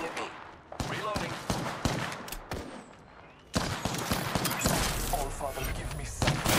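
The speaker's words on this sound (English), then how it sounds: "Oh, the enemies are shooting at me." Enemy gunfire in a shooter video game crackles in rapid bursts and scattered shots, mixed with thuds and game effects, while a voice talks over the action.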